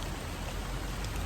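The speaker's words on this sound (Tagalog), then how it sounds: "parang last na lang to guys kasi malakas na yung ulan" Heavy rain pours steadily during a fishing outing for tilapia, a dense, continuous close hiss with no pauses and no talk.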